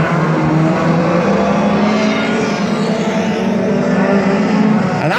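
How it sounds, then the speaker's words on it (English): Race cars roar around the Ringwood raceway track during a heat, a dense, steady engine drone filling the whole stretch at constant loudness, with no talk audible over it. "the 611 car of Jamie Bryant is, in my opinion, getting a little bit closer to the 718 of Colin White"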